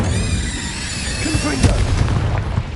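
A fire spell is cast in the Hogwarts Legacy video game, a loud burst with crackling, booming impacts rising from a busy, steady layer of game sound, while a voice briefly calls out over it.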